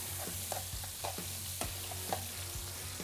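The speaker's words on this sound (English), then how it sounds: "give that a good stir" Onion, celery and garlic cook in a pot under a soft background sizzle, while a spoon scrapes and knocks against the pot in repeated, uneven strokes. The sound is close but fairly quiet, with a low hum underneath and no voices.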